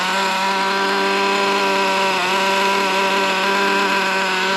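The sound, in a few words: nitro Traxxas T-Maxx RC car engine running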